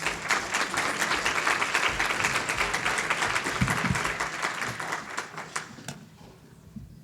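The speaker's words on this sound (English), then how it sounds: "So nice round of applause for Delegate Heather Bagnall." An audience at a legislative briefing and reception gives a steady round of applause for a speaker, a dense wash of clapping that thins and tails off at the end.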